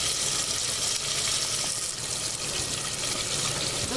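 Catfish fries in hot oil with a steady, dense hiss and crackle, loud and close, continuing unbroken without any talk.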